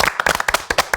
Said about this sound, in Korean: 정말 박수 보내드립니다